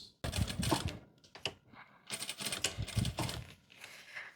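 A sewing machine stitches a fitted midi skirt in rapid, stop-start bursts of mechanical rattling, close by, with short pauses between runs.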